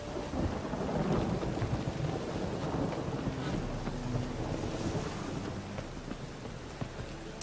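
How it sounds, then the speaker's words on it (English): Steady rain pours in The Witcher 3, with rumbling thunder and gusty wind filling the whole stretch at an even, heavy level. "Rain again."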